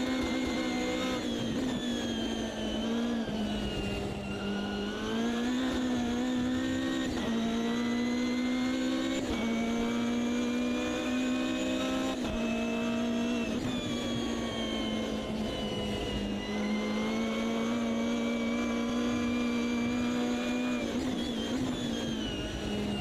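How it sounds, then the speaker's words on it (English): A Ginetta G55 GT3 race car engine in the Automobilista 2 sim racing game at Kyalami, with a loud continuous engine note rising and falling through repeated gear shifts and revs, alone without talk. "I am driving a car without ABS and TC."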